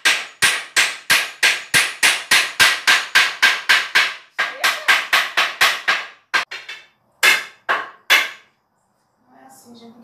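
Nails are hammered into a pine wood cutting table in a quick, steady run of about twenty sharp, ringing blows. A few slower, separated strikes follow, then faint voices at the very end.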